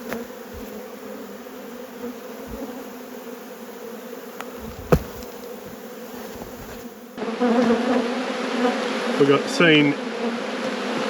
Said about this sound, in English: We've seen bees all over me.